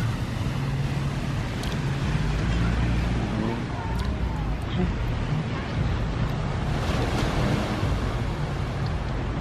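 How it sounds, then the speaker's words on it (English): Ocean surf rolling onto a beach, a steady close wash of breaking waves mixed with wind rumble on the microphone, continuous throughout with faint voices underneath. "I love the sound of the ocean."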